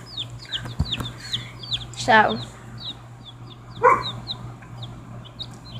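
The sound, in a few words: chickens clucking while pecking at grass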